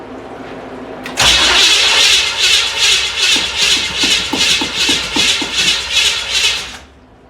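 A classic Pontiac Firebird muscle car engine cranks and catches loudly after a pause, then runs with a steady, pulsing idle and a few rhythmic revs before cutting off near the end.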